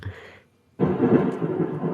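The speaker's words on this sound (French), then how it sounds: "Pourquoi il y a de l'orage?" Thunder rumbles as a storm breaks out, a brief faint rumble, a short silence, then a loud sustained roll of thunder with rain-like noise.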